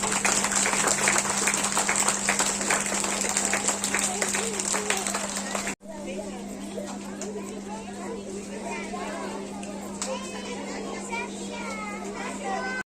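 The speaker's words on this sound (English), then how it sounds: "Please give a huge round of applause for our little rosebuds from Standard 1." An audience claps for young Standard 1 children at a school Independence Day celebration in India; continuous clapping under a steady hum, with children's chatter and crowd noise blending in after a brief cut.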